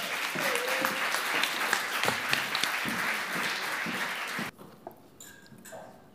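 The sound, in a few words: audience applause for a speaker at an eloquence contest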